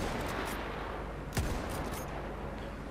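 Gunfire in a WW1 mod of Mount & Blade Warband: a single sharp shot stands out midway over constant dense battle noise, with faint scattered reports around it.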